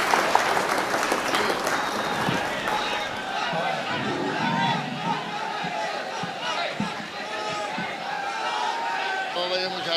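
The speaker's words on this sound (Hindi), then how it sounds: "जोरदार तालियों से इस्तकबाल करें" Applause and crowd noise fill an All India Mushaira poetry gathering, loud clapping and cheering near the start that fades into murmuring chatter, with voices talking over the audience throughout.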